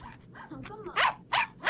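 A dog named Tori barks indoors, a couple of sharp, loud yaps in quick succession after a stretch of quieter whining and shuffling, with a person's voice speaking in between.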